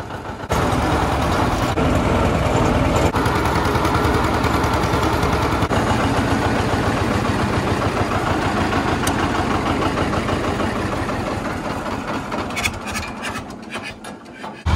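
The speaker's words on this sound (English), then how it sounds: "We've got about a 20-minute journey here on the tractor up to the repair shop" A John Deere tractor engine runs continuously on a drive to the repair shop, a loud steady rumbling drone with rattling, holding even before tapering off slightly near the end.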